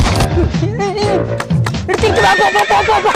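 A horse whinnies amid overlapping voices and busy background noise, its call rising and falling loudly across the clip.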